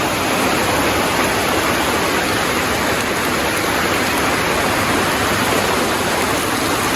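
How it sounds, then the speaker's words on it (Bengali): Heavy rain pours steadily after days of downpour, a loud, dense, unbroken roar of falling water with no talk. "সকাল থেকে কি পরিমাণ বৃষ্টি শুরু হয়েছে দেখেন।"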